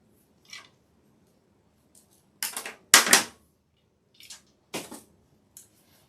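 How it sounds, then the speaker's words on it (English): Several short snips as cutters trim a stem for a red and gold Christmas swag door wreath, a few quiet clicks followed by sharper crunchy cuts, close and isolated in a quiet room. "I know I don't need this stem that long, so let me cut it off."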